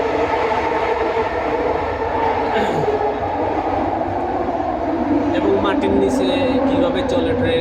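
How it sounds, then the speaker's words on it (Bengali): A train rumbles past close by in Malaysia, a heavy continuous roar with rattling wheels and faint squeals, a voice talking over it. "ট্রেন কিন্তু আরেকটা চলে যাচ্ছে এটা আর একটা ট্রেন"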